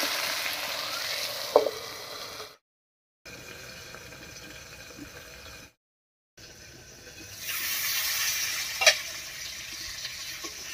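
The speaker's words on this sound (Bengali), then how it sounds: "ঢাকা দিয়ে দিয়ে আলুটা ভাজা করে নিয়েছি" Potatoes seasoned with salt and turmeric fry in hot oil in a covered pan, giving a steady hiss and sizzle broken by two short silences and a couple of sharp clinks.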